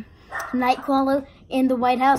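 Two dogs barking out in the rain, several loud barks close by mixed in among a man's speech.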